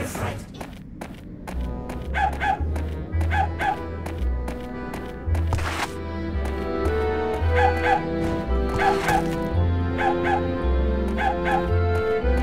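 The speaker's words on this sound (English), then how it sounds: "I hate yappy dogs." Small yappy dog from the Oogie's Revenge video game barking in quick repeated bursts over a thumping musical background, with a voice heard in between.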